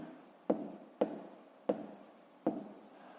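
A pen scratches on paper during a school maths exercise, in four separate writing strokes spaced about half a second to a second apart. Each stroke starts with a crisp tap and then trails off into a soft scratch, close by and quiet.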